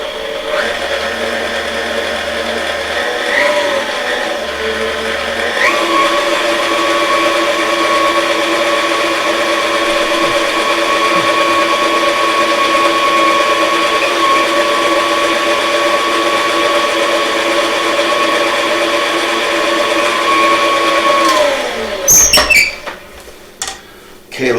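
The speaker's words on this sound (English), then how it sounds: "Now let's go ahead and let's mix." An electric mixer hums steadily while beating Runza sandwich dough made with salt, a loud continuous motor whir that holds for about twenty seconds before clattering to a stop.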